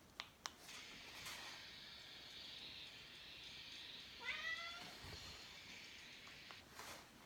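A single drawn-out meow from a female cat rises and falls in the middle of a quiet room, with a few faint clicks and thumps around it.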